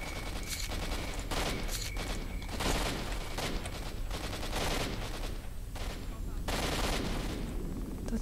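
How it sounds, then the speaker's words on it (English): Sustained gunfire in the video game S.T.A.L.K.E.R. Shadow of Chernobyl, dense overlapping bursts and rapid shots with heavy booming, loud and continuous throughout. "That's a lot of gunfire."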